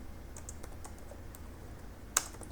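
Keystrokes on a computer keyboard while writing code, light scattered taps over a steady low hum, with one sharper key strike near the end.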